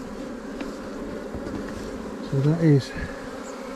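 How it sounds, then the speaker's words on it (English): Honey bees buzz steadily around an open beehive during a beekeeping inspection, a dense close insect drone that swells briefly louder near the end, with someone speaking a few words over it. "The bees tend to get out of the way."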